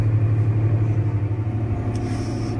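A tractor towing a sprayer drives across a field plot, its engine giving a steady, loud low rumble and drone that holds throughout with no voices.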